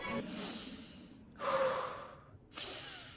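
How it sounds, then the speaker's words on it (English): Heavy breathing from a cartoon character: three long, close, airy breaths in a slow rhythm, each swelling then cutting off, separated by brief silences. "I can hear his breathing"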